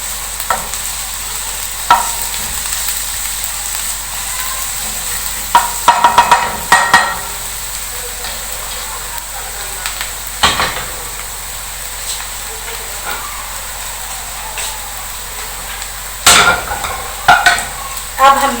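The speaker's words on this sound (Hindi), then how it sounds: "इस तरह से फैलाकर सारा प्याज हमने फ्राई कर लिया।" Onions fry in a hot pan while a spoon repeatedly stirs and spreads them, steady sizzling hiss punctuated by sharp scraping knocks of utensil against metal, close and loud.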